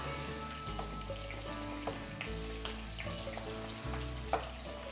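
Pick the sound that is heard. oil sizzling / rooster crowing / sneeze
oil sizzling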